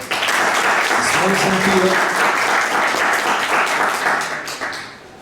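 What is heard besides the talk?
applause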